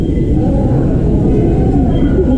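Continuous low rumble and rattle of a train passing close by, steady and loud throughout with a faint drawn-out squeal over it.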